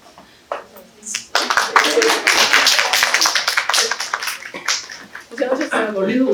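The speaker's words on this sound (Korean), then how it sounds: "박수 한번 쳐주세요, 박수" An audience at a lecture claps in a dense burst of applause lasting several seconds, then tapers off into a few scattered claps as a voice speaks.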